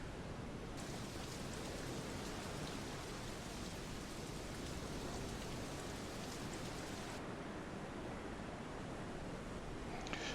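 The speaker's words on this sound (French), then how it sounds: "Pluie." Rain in the submarine game Silent Hunter 3 in heavy fog, a steady, even hiss of downpour filling the scene with no voices.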